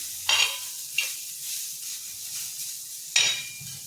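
Bitter gourd stir-fried in a pan sends up soft sizzling, punctuated by three loud bursts of hiss and scrape as the pieces are turned, with a quieter crackle between them.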